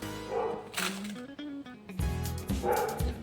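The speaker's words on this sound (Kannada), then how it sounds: "ನೋಡಿ, ನಾಯಿ ಬೊಗಳ್ತಾ ಇದೆ ನಮ್ಮದು." A household dog barks a few times in quick bursts, moderately close, heard from a home kitchen where fish curry masala is being prepared.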